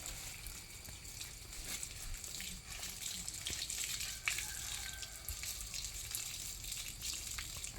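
Water poured over a small animal while bathing it, a steady gushing splash close by with brief drips and shifts in flow, no talking.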